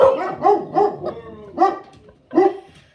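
Dogs bark close by in a quick series of about five loud, yelping barks, with short gaps between them.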